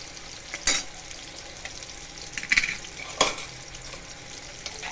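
Ingredients for matar paneer sautéing in a pan, with a constant close sizzle and three sharp spoon-against-pan clinks from stirring.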